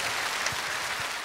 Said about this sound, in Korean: 박수로 받으십시오.